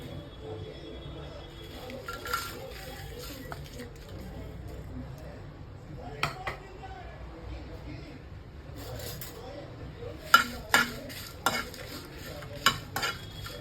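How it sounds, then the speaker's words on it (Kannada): Green chillies roast in a spoonful of oil on a flat griddle pan, giving a steady low sizzle broken by sharp clinks and scrapes of stirring that grow busier toward the end. "ಒಂದು ಹೆಂಚಿಟ್ಕೊಳ್ಳಿ, 1 ಸ್ಪೂನಷ್ಟು ಎಣ್ಣೆ ಹಾಕ್ಕೊಳ್ಳೋಣ. ಫಸ್ಟು ಮೆಣಸಿನ್ಕಾಯಿಗಳನ್ನ ಹುರ್ಕೊಂಡ್ಬಿಡೋಣ."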